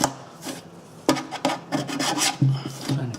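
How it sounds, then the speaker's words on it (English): Rasping, scraping strokes as old plumber's putty is worked off a metal garbage disposal sink flange, several short uneven passes close up with no talking. "we got to remove the old plumber's putty"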